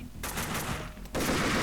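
Colt Commando rifle fire in Max Payne 2, rapid automatic bursts in a small arena, loud and close, with the firing intensifying sharply near the end.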